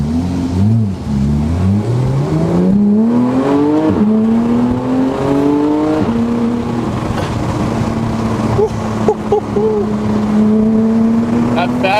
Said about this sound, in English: That fabspeed exhaust, boy!